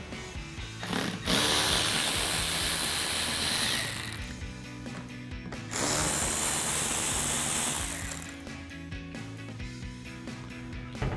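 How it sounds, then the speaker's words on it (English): Ratchet with a 7mm socket backing out screws from the third brake light of a 2009-2014 Ford F-150, two long bursts of rapid, close clicking separated by brief pauses. "We're going to go ahead and use the socket to remove 2 screws on either end of the third brake light."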